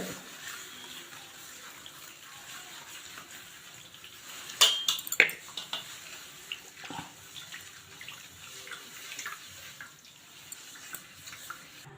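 Sugar, salt and a pinch of baking soda are stirred into a quarter cup of water in a bowl for maida biscuit dough, with soft liquid swishing and a few sharp clinks near the middle.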